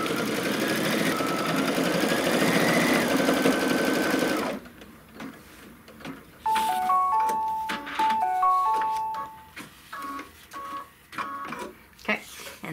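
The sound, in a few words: embroidery machine stitching a tack-down on a belt bag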